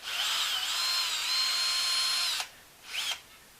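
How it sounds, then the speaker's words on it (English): A power screwdriver with a Phillips bit unscrewing a spoke nipple on a KTM 1190 Adventure R rear rim whirs steadily for over two seconds, its pitch wavering slightly, then stops; a second short burst follows a moment later. "get a power tool with a Phillips head screwdriver attached to it"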